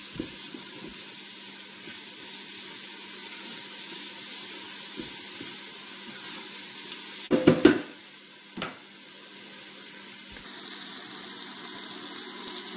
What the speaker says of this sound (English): I'm just going to let that cook and let the oils come out of all those spices and get them kind of toasty